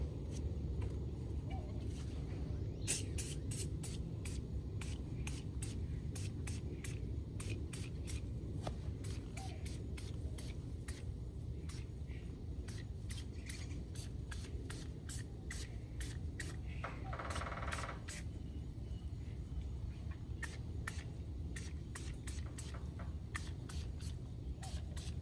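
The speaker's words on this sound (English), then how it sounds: "let's go ahead and start with the spray." Repeated short hissing bursts of spray cleaner on a Harley-Davidson V-Rod Night Rod motorcycle engine in quick, irregular succession over a low steady rumble, with a longer hiss partway through.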